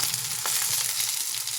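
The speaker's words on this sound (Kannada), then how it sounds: "ಈರುಳ್ಳಿ, ಮೆಣಸಿನ್ಕಾಯಿ ಒಗ್ಗರಣೆ ಹಾಕಿದ್ದೀನಿ" Onion and green chili tempering sizzles in a pan over medium heat for ivy gourd palya, a brief, close, steady crackling fry without voices.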